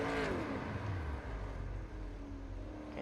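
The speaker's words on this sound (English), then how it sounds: "You can hear engine dropping out." A race car engine in the iRacing sim at Phillip Island Circuit revs and whirs, then briefly cuts out and drops away before picking up again, a steady mid-pitched drone with no voices.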